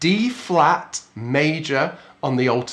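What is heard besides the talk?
None of the usual background noises is heard.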